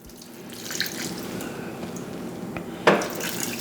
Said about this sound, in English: I'm gonna add another cup of water